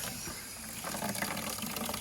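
An outdoor faucet runs water into a bucket, a steady close splashing rush that grows slightly fuller and more gurgling as it fills.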